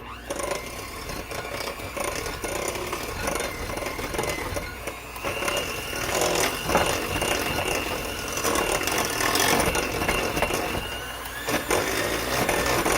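An electric mixer runs on its highest speed through banana bread batter with eggs and stubborn butter, a loud continuous mechanical whir that grows slightly stronger partway through, without talk.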